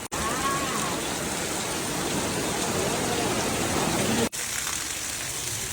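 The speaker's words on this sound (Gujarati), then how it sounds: "તો ગાઈસ જોરદાર વરસાદ ચાલુ" Dense, steady roar of heavy rain pouring down during a thunderstorm, loud and continuous, with a brief dropout near the end.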